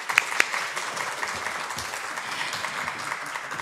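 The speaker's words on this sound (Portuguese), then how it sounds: "uma salva de palmas, por favor" An audience at an academic plenary session on teaching qualitative research claps steadily at moderate volume, with two sharp, brighter claps standing out near the start.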